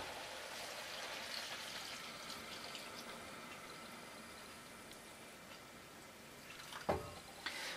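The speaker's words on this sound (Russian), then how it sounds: "Теперь я беру бульон. Бульончик. И заливаю" Broth poured from a vessel onto rice for a pork pilaf makes a steady, soft liquid stream for several seconds, ending with a brief clunk and splash near the close.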